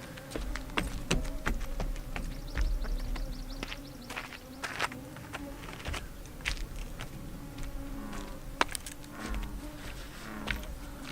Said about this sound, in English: there's so many mosquitoes here